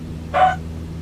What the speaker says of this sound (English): The little dog's awful loud.